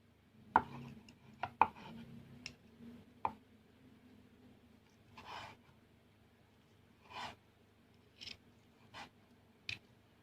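A knife chops through grilled marinated pork neck on a board in a quiet kitchen, a handful of sharp, irregular cuts and taps spaced across the clip with silence between them.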